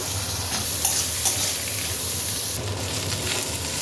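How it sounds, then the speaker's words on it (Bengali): Chopped onions fry in a pan with whole cumin, dried red chillies and bay leaves, giving a steady close sizzle with a few small pops and crackles throughout, moderately loud and without any voices. "এরপর দিয়ে দেবো কুচি করা পেঁয়াজ পেঁয়াজটাকে কিন্তু খুব লাল করে ভেজে নেব"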